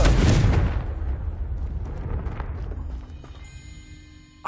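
A Confringo spell explodes in the Hogwarts Legacy video game, a loud close blast that booms at once and then rumbles and fades over several seconds.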